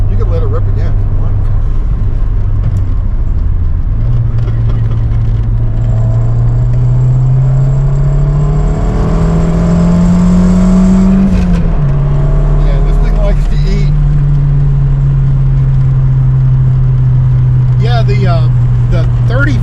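A 1987 Shelby Charger GLHS accelerates hard from inside the cabin: a loud, continuous engine drone rises in pitch, eases briefly, then holds steady while people talk over it.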